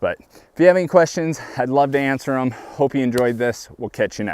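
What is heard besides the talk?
None of the usual background noises is heard.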